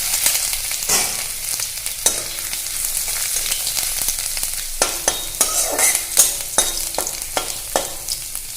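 Panch phoron spices and chopped ginger sizzling in hot oil in a pan for dal shukto, a continuous crackling fry with scattered pops and a run of sharp stirring taps and clinks in the second half.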